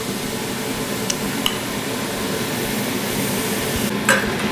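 Chicken teriyaki pieces sizzle steadily on the hottest part of a grill, a constant close frying hiss with a couple of faint clinks and a brief scrape near the end.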